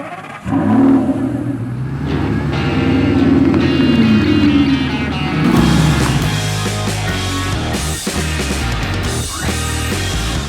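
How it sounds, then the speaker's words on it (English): A gated manual 2006 Lamborghini Gallardo Spyder driving in Central Florida, its engine revving loud and close, pulling up through rising gears with brief dips at shifts and a sharp burst of acceleration partway through. "I am driving my gated manual 2006 Lamborghini Gallardo Spyder"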